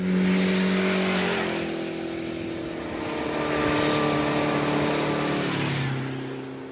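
A Honda CB750 Four four-cylinder motorcycle engine runs loud and close, a smooth continuous drone that rises and falls as the revs change, with no talking.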